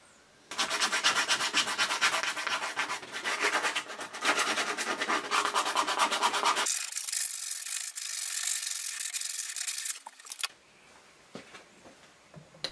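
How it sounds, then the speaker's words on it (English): A file and sandpaper rounding off a shaped wooden box handle: steady, continuous rasping and scratching strokes, close and fairly loud, with a change in texture partway through and brief pauses near the end. "I use a file and sandpaper to round everything off."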